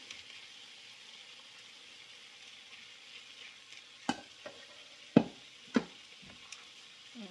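Teriyaki sauce sizzles on a second batch of chicken frying in a pan, a soft steady hiss broken by a few sharp clacks of a utensil against the pan.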